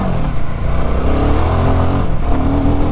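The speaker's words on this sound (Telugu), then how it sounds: "అమ్మో, యాక్సిలేటర్ ఇస్తే బ్యాక్ సైడ్ వీల్ అయితే అలా స్పిన్ అయిపోతుంది అక్కడక్కడే." A Royal Enfield Himalayan 452 motorcycle revving hard in first gear as its rear wheel spins in place on dirt, a loud, close, rough engine roar that surges and holds.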